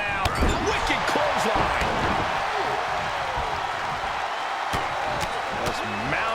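Punches land in a WWE 2K22 wrestling match between The Rock and Big E, a run of quick impact thuds in the corner over loud arena crowd noise and play-by-play commentary.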